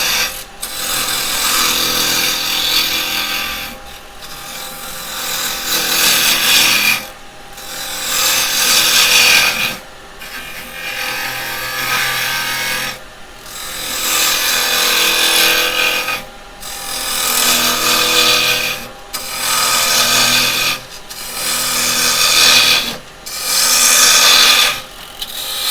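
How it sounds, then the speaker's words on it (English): A square carbide woodturning tool scrapes steadily against a spinning wooden mallet on a lathe, giving a loud, rough rasping. The bursts come in repeated passes of a few seconds each, separated by brief pauses. "So I'm just going to use a carbide for this"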